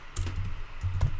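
A few quick keystrokes on a computer keyboard while typing text in Photoshop, soft light clicks in two short clusters, close and quiet with no talk.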